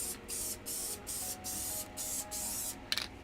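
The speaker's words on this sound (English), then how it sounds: "spraying the spray adhesive." Spray adhesive hisses from an aerosol can in a run of short, even bursts separated by brief pauses, close up, with a small rattle or knock near the end.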